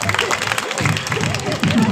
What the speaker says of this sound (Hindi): जोरदार ताली हो जाओ